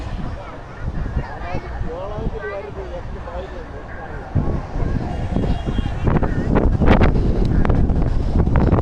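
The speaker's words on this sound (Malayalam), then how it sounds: "കാറ്റടിച്ചിട്ട് നിൽക്കാൻ വയ്യ" Strong wind by the sea buffets the microphone in heavy, roaring gusts, with people talking faintly beneath and rougher blasts building toward the end.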